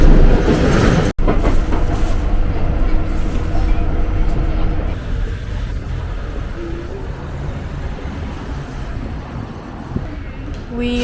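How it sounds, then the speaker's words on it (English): A train pulling into a Paris station, a steady loud rumble with rail clatter and squealing tones that settles as it arrives, with people talking faintly over it. "And now the train is here."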